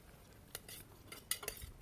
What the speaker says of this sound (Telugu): ఈ విధంగా మసాలాలన్నీ మంచిగా ఉడికే వరకు కలుపుతూనే ఉండాలి